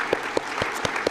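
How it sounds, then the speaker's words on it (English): A brief stretch of crowd applause at a county community report presentation, with a steady wash of clapping and a few sharper, evenly spaced claps standing out close by. "to give you just a wonderful round of applause"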